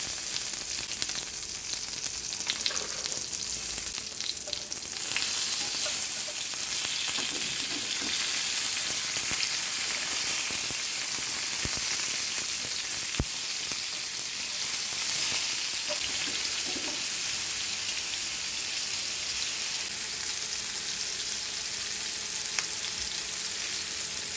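Onions sizzle steadily in a hot pan for mole, a constant crackling hiss with occasional stirring clinks, heard close up without talking.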